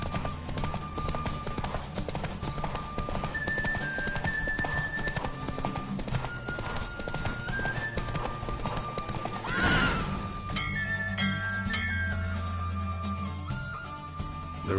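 Horse hooves clip-clop in a fast, steady galloping rhythm during a race in The Witcher 3, with a neigh, rushing movement and game music layered over the running.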